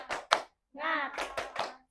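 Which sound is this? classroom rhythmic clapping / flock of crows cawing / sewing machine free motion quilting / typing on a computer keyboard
classroom rhythmic clapping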